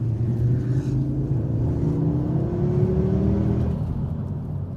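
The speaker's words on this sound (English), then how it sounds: "they've really tuned up the engine noise, not the exhaust, the engine more than anything, to make it sound much more aggressive than the ST" A turbocharged Ford Focus RS engine revs up, a loud near drone whose pitch climbs steadily over a few seconds before settling back, heard alone without voices.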